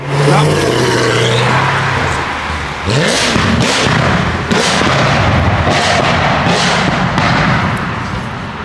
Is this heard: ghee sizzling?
no